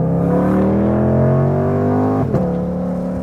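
Supercharged V8 exhaust of a 2022 Ford Mustang GT500 revving, a loud sustained rising roar climbing steadily in pitch, then a brief shift and continued drone, heard from inside the car.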